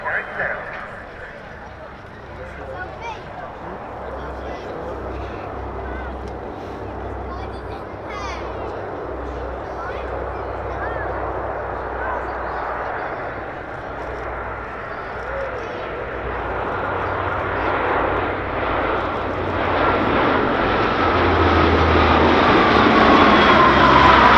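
A military fixed-wing aircraft with its undercarriage down flies past at about 210 knots at an airshow, its engine roar swelling steadily louder as it approaches, with an announcer talking over it.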